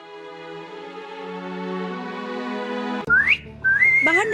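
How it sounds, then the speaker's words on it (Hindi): A whistle is blown outdoors, with two short rising shrill blasts that follow a sustained tonal passage. "बाहर निकलकर मीनू ने सीटी बजाई"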